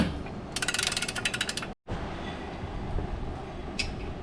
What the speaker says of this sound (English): Now you torque your bolt to 48 foot-pounds.